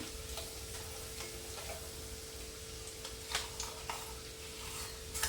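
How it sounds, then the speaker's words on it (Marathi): Green chili and peanut paste frying in hot oil for a fasting amti, a faint, steady sizzle with a few soft stirring taps, quiet and unaccompanied by talk. "हे मस्त परतून घ्यायचं म्हणजे मिरची पण परतली जाते छान"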